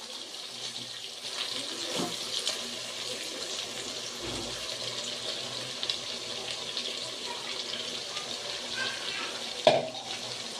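Water pours steadily into a pot of fish curry with a continuous rushing splash, fairly close, ending with a small clink.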